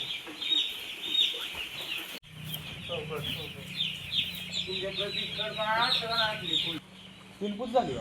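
Chickens and chicks cluck and chirp at feeding time as a new sack of feed is opened for the chicks, with steady clucking throughout and people talking nearby.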